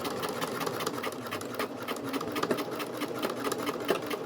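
A sewing machine back stitching fabric, its rapid even needle chatter running steadily and close throughout with no talk over it.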